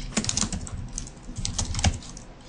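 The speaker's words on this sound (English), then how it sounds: "You can type in their email addresses if you would prefer to send them an email to invite them to class" Rapid typing on a computer keyboard, a close, steady patter of key clicks running throughout with no speech.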